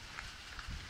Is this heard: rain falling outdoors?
yes